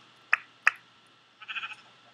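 Sheep from the Minecraft Beta 1.9 pre-release bleat in game: two short, sharp bleats close together, followed after a pause by a longer wavering bleat, fairly loud with no talk over them.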